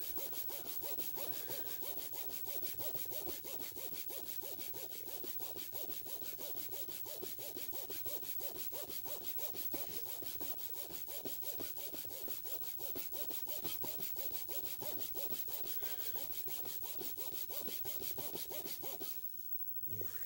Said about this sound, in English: And you just scrub.